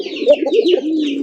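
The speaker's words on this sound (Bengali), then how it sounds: "গোল্লা কবুতরই কিন্তু পোকার মতো ডাক" A yellow king pigeon cooing up close, a short rolling series of throaty, wavering coos that end in a longer drawn-out note.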